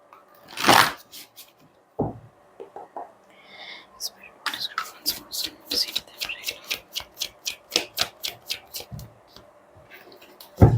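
Tarot cards shuffled by hand at close range, a series of quick crisp riffling snaps in steady rhythm after a few scattered handling sounds, with a soft voice briefly present.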